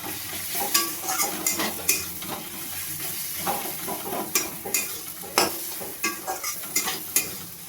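Ground coriander, cumin and garam masala sizzle in a pan while they are sautéed for a lote fish jhuro, with steady frying hiss and repeated scraping stirs of a utensil against the pan at close range.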